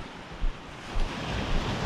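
Incoming tide washing onto a beach, a steady roar of surf with a few swelling wave surges and some wind, heard alone.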